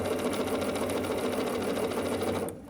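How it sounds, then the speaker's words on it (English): A sewing machine runs steadily, sewing a quarter-inch seam down the side of a half-square triangle for a Shoo Fly quilt block, a continuous close whir that stops abruptly near the end. "we're going to sew with 1/4 inch seam allowance down the side of this half square triangle"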